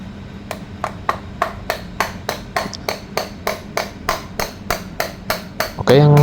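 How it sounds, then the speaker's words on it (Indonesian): A hammer strikes a locking pin into a car brake master cylinder in a workshop, about twenty sharp, evenly spaced metallic taps ringing close and loud, followed by a brief burst of other noise at the end. "tinggal kita ketok pakai palu."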